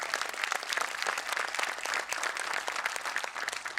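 An indoor audience at a panel discussion applauding, dense continuous clapping from many hands at moderate distance, steady throughout with no voices over it.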